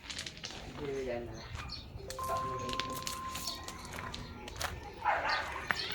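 A dog barks a few times at a moderate distance amid outdoor background noise, with some yips and short whimper-like sounds mixed in.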